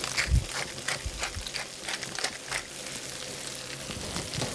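Peas and bacon lardons frying in a pan are stirred with a few scraping strokes over a steady sizzle, close and moderately loud, with no talk.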